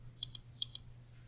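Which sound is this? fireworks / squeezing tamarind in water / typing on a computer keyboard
typing on a computer keyboard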